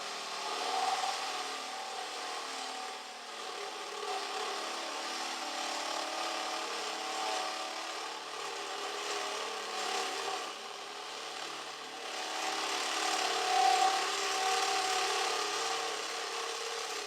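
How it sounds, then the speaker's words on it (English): A power drill with a larger bit grinds continuously into material on an RV for a long stretch, a steady whirring bite that swells louder near the end. "now our second hole, we can go with the bigger drill bit."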